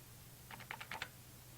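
Five quick, soft key presses on a financial calculator keypad, faint and close, with no talking.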